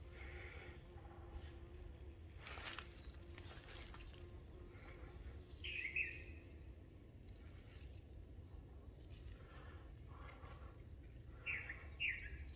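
Small birds chirp in the taiga, with brief high calls standing out around six and twelve seconds over a steady outdoor background with a faint trickle of water.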